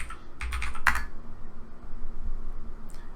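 A few quick clusters of keystrokes on a computer keyboard, close and crisp, then a quiet pause before one last light tap.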